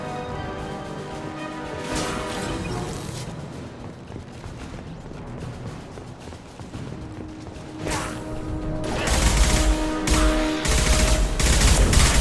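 Rapid gunfire from the Mass Effect 2 video game, bursts of shots and impacts layered over a continuous game soundtrack, growing louder and denser toward the end.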